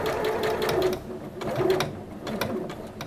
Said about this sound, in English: Begin stitching that together.